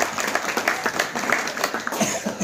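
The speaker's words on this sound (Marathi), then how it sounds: "एकदा साहेबांसाठी आपण जोरदार टाळ्या वाजवूया" An audience at a Shivaji Maharaj birth celebration in Nandura, Buldhana, claps in a brief, dense burst of applause.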